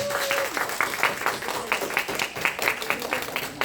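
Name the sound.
church congregation applause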